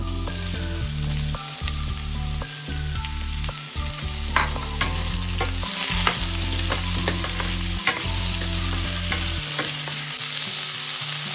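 Green chillies sautéing in a pan for baby jackfruit varai, a steady loud sizzle with repeated scraping stir strokes and clinks throughout, no voices.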